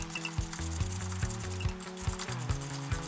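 A ratchet wrench snugs exhaust bolts on a Harley Fat Boy bobber, clicking close and clear in a steady series of repeated pawl strokes.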